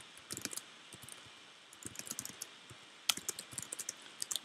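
Quick clicks from a computer keyboard during a Minecraft race game, coming in short irregular bursts with gaps between, close but fairly quiet and with no talking.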